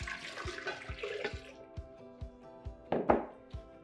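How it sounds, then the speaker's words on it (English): Sparkling water poured into a pitcher of juice, a gushing, bubbling stream that rises into a louder splash near the end, heard close with no talking. "Next, add 4 cups of sparkling water."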